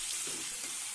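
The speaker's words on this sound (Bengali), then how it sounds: "মুরগির মাংসগুলো দিয়ে কয়েক মিনিট ভেজে নিব।" Chicken pieces frying with onions in a pan for chicken curry give off a steady, close hiss of sizzling oil, continuous and fairly loud, with no voices.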